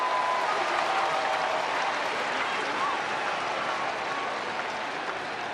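A baseball stadium crowd cheers and applauds loudly and steadily during a late-inning moment of a Blue Jays versus Cardinals game, with a broadcaster's voice faintly underneath.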